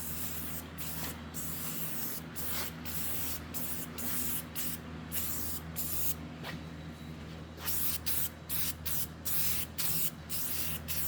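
A spray gun hisses steadily while powder coating a greasy metal part, in a long continuous stream broken by short rhythmic gaps near the end; close and fairly even in loudness, with no talking.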